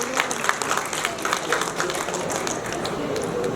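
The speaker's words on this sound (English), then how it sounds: "Let's give that a big round of applause, please." Crowd applause at a Lions Club inauguration ceremony, a dense patter of many hands clapping steadily close by, with some voices mixed into the noise.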